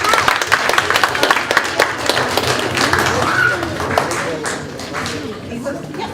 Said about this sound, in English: we want to give you all a round of applause